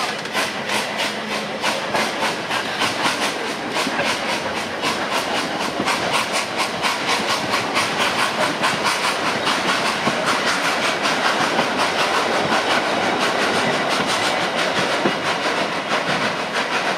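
A fully loaded railbus rolls past on the tracks, with a steady rhythmic clickety-clack over a continuous rushing rumble, loud and close throughout.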